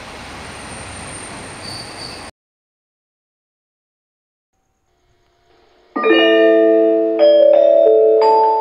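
Loud rumbling train noise at JR Kyushu Taniyama Station cuts off into silence, then a bright electronic chime melody rings out as the train approach signal.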